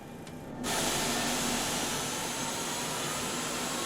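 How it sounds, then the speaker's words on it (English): A Boeing 737-200 jet engine spools up in the Flyjsim flight simulator, jumping from a quiet cockpit into a loud, steady broadband whoosh and roar that holds level after the first half second. "Starting engine number 2."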